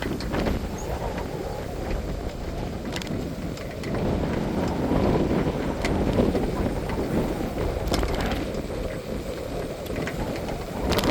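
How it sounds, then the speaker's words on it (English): Steady wind buffeting the microphone on a bike path by Lake Monona, a continuous low rumble with gusts that swell midway, no talking. "it's a little windy here."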